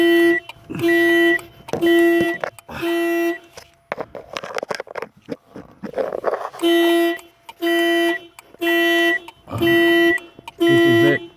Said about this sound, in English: I know that the alarm system is down here.